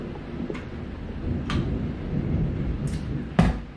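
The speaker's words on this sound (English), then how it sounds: "I don't know if y'all can hear that, but the sound of the rain is quite relaxing." Steady rain pours outside, a dense hiss heard from indoors at moderate volume, with a few faint sharp clicks or taps scattered through it and no one speaking.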